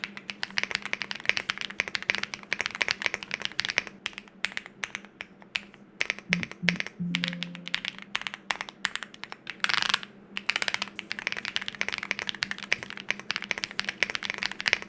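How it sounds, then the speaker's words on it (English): Fast, steady clacking of keys on a Mechlands Blade75 mechanical keyboard fills the stretch, with a brief pause and a couple of deeper thumps midway; no voices. "one of the better typing sounds and feels that I've encountered recently on a keyboard"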